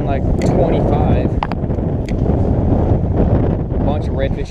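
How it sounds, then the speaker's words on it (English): Strong gusting wind buffets the microphone out on open water at night during redfish fishing, a loud continuous roar with rushing swells and no clear speech. "Wind is gusting like 25."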